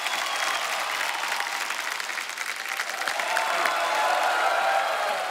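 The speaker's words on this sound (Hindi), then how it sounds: "एक बार जोरदार तालियां हो जाए।" A studio audience at a televised Hindi comedy show breaks into steady, full applause with some cheering mixed in, a continuous dense clapping that holds at an even level for several seconds.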